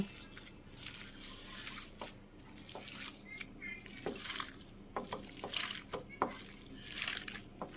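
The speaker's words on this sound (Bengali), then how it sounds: "এটা একসাথে মিশিয়ে মাখিয়ে নেব।" Salt, onion, green chili and mint leaves, with minced chicken and carrot, being kneaded together by hand: close, wet squelching and squishing in irregular bursts, with no talk.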